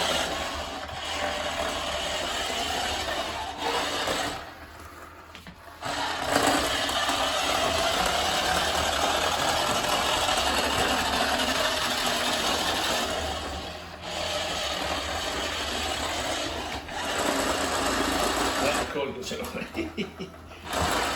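The gears of a vintage battery-operated West German BMW Turbo toy car whir and rattle close by, running in long stretches broken by a few short pauses.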